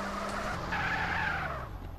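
Car running on burst tyres in a GTA mission slides and skids, a steady engine drone carrying a brief squealing scrape, close and continuous with no one speaking.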